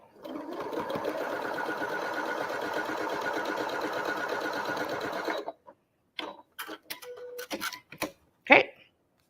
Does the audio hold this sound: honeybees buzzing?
no